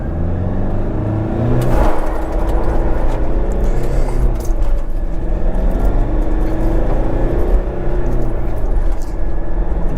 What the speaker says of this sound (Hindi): चारों व्हील्स ने पावर डिलीवर करी और क्या व्हील स्पिन्स मारे हैं।